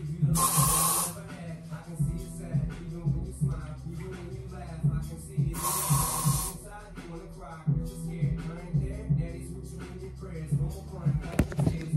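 An aerosol can sprays an insect indoors in two sharp, loud hissing bursts a few seconds apart, with scattered shuffling and handling noises between them.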